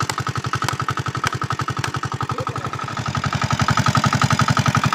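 An engine idles steadily after repair work, its firing pulses thumping in an even, rapid rhythm close by, growing slightly louder and quicker toward the end, with no talk over it.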